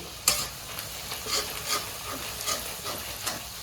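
Spices frying with goat meat in a pan, a close sizzle punctuated by several sharp stirring scrapes at an uneven rhythm, with no voices.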